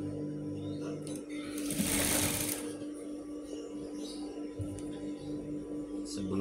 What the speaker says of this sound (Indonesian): Sebelum pemasangan ban dijahitkan dulu ini.